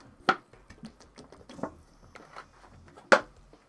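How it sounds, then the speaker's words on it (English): A plastic gallon water jug is handled nearby, giving soft irregular knocks, crinkles and sloshing thumps with two louder sharp clunks amid quieter rustling. "I got a gallon jug of water next to me."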